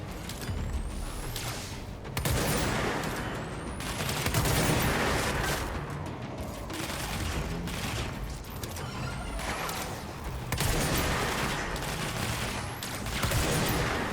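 Gunfire in the video game Control: dense, rapid bursts of shots and crashing impacts roll on continuously with brief swells and whooshing effects, loud and without speech.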